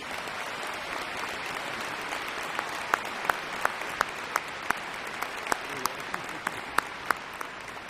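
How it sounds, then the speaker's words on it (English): A university commencement audience breaks into sustained applause, dense steady clapping from a large crowd filling a hall, with a few sharper nearby claps standing out over the wash. "I want you to show by your applause a thank you to them"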